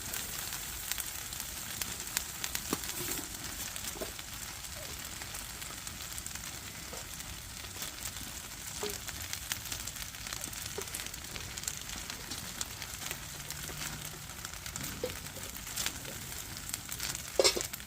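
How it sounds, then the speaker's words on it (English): Vegetables cooking on tin foil inside a hot camping tent give off a faint, continuous crackling sizzle with scattered small pops, steady and quiet throughout. "In a hot tent, cooking vegetables on some tin foil."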